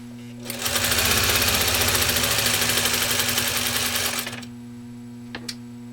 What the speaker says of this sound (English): I blinked once and I think I missed something, because this direct drive Singer 301A just did